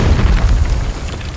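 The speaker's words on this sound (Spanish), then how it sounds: "Una explosión grande, me refiero." A large explosion in the video game Gears 5 booms through the whole clip, a loud, heavy, rumbling blast that sustains without any voices.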